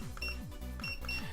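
A barcode scanner in a video game emits repeated electronic beeps in a quick regular rhythm, layered over a looping descending musical pattern, all fairly close and steady.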